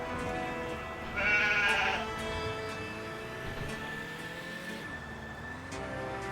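Black sheep in a video game bleat once, a brief bright bleat rising over a steady bed of game music and engine-like drone.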